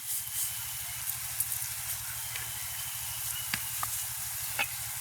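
Dried chilies, crushed garlic, curry leaves and mustard seeds fry in oil in a village kitchen, producing a steady hissing sizzle with occasional sharp pops and crackles over a low rhythmic hum.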